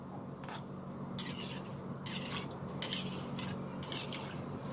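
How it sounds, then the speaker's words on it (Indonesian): Onde-onde sesame balls are stirred in a pot of hot oil, with a steady low bubbling bed and repeated scraping, clinking strokes of a utensil against the pot at an uneven rhythm. "Terus aduk"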